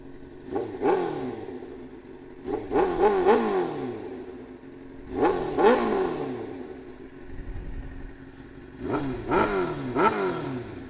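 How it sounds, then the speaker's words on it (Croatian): A Suzuki GSX-R 600 SRAD sport motorcycle engine revs repeatedly in sharp bursts, each climb in pitch dropping back to a rough idle, close and loud, with no talking. "pišite šta mislite o zvuku motora"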